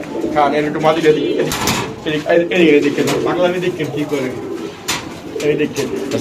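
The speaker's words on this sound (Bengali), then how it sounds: "এখানে আছে একটা জায়েন্ট হোমা কবুতর" Giant homer pigeons cooing in a loft, soft repeated throaty coos up close, with people talking over them throughout.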